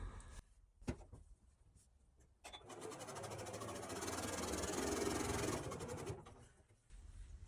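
A sewing machine stitches a diagonal seam across a fabric table runner in one steady, rapid whirring run of about four seconds. Quiet handling clicks come before it and after it.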